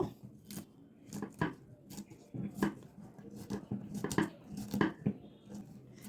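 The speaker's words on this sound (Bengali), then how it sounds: "আমি এখন এগুলো কেটে নেব" Baby bananas chopped with a knife, a string of sharp, close taps and cuts on a board in an uneven rhythm, quiet and with no talking.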